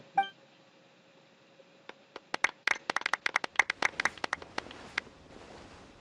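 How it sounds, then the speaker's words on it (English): Applause for the champion Kaveh at an award ceremony in Genshin Impact: after a short chime, scattered sharp claps build into a brisk, irregular patter lasting a few seconds, moderately close and not very loud. "Let's give our champion Kaveh one last big round of applause."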